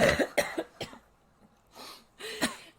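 Several close, harsh coughs in quick bursts, a short pause, then two more coughs.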